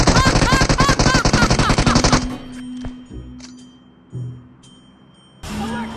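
Sustained rapid automatic gunfire in the PUBG Mobile video game, loud and close for about two seconds, then cutting off into quieter scattered sounds before a brief loud burst near the end.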